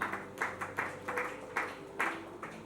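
Applause greets a preacher being introduced at a Congolese church gathering: dense bursts of clapping that swell and ease in waves, close and fairly steady, with no one talking.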